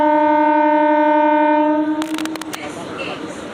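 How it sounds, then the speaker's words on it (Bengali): A local train arriving at Mankundu station in West Bengal, a loud sustained horn blast followed by sharp clanking rail noise and a rumbling train. "এই যে ট্রেন চলে এসছে"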